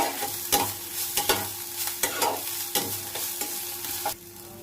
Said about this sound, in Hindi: थोड़ा सा इसे हम सौटे करेंगे